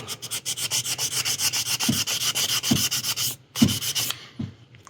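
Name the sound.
sanding primer on plastic model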